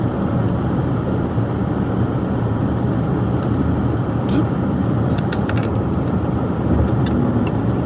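A car travelling along a motorway on a Sunday drive toward Stonehenge gives a steady, loud interior road and engine rumble that holds constant throughout, with faint tonal noises flickering above it.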